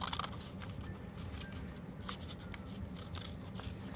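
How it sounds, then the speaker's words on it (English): Scissors snipping paper along a drawn line for a tiki mask craft, a quiet close-up series of crisp, irregular cuts and rustles with no talking. "Cut on the line."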